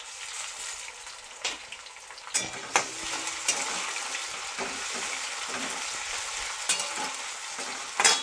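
Chopped tomato stirred into hot masala in a pan for spicy vajri: a continuous, close sizzle and bubbling fry, broken by several scraping stirs and clatters of the spoon against the pan.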